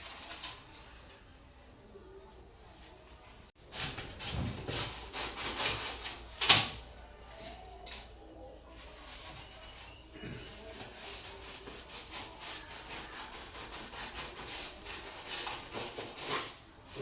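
A carved duck shape being cut out along its drawn outline during a school art class, with faint scraping and rubbing strokes and a few sharper snips, quiet and close, with occasional voices nearby.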